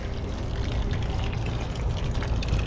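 A truck pumping liquid out of a pit at a work site, giving a steady, loud rushing and gushing of water that runs without a break.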